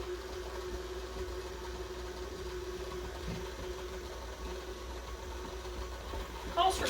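Small electric stand mixer churning yeast nut roll dough for traditional Slovak kolache, a faint, steady motor hum that runs evenly throughout, with a person talking over it.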